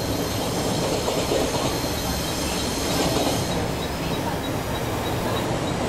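Vande Bharat Express train running in Train Simulator, a steady loud rumble of wheels on rails with a faint metallic squeal, continuous throughout.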